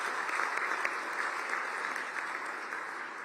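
Audience applause at a presidential address at Punjab Engineering College in Chandigarh, a dense, steady wash of clapping from a large crowd lasting throughout.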